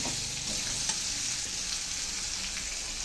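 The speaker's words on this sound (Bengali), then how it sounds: "সয়াবিনগুলো কিন্তু খুব সুন্দর ভাজা হয়ে গেছে তরকারির সাথে" Soybean chunks frying in a curry in a pan, a soft, continuous sizzle and crackle with faint stirring, fairly quiet and without talk.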